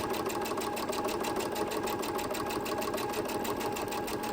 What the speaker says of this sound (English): you might have to help your sewing machine stitch it